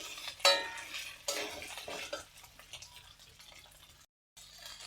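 Potatoes are added to a pan of lightly browned egg and sautéed for a Bengali kuchla recipe, giving close clatters and scrapes of a spoon against the pan that fade into quieter stirring.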